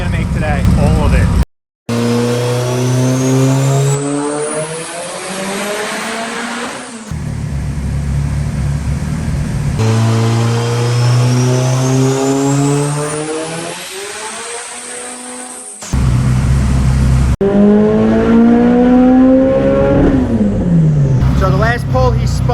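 A turbocharged Mitsubishi Eclipse GSX with a Holset turbo running around 40 psi of boost screams through repeated dyno pulls, the engine note rising steadily in pitch across each run before cutting off, loud and close with brief gaps between pulls.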